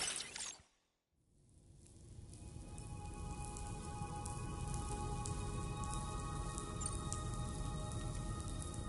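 Steady rain falls in the video game Death Stranding 2, a dense, even hiss of drops on surfaces that swells in after a brief silence and holds at a constant level, with no voices.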